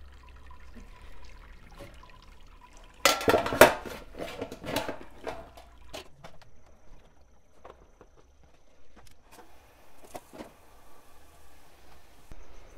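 Water poured over about 30 pounds of grain to sparge a wet hop pale ale, a loud splashing pour for a few seconds followed by lighter trickles and clinks of brewing gear.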